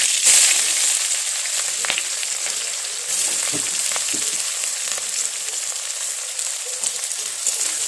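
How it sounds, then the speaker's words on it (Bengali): Onions hit hot oil with dried red chillies in a pan, giving a close, loud sizzle that stays steady, with occasional crackles and stirring scrapes. "এটাতে আমি এখন পেঁয়াজ ছেড়ে দিচ্ছি"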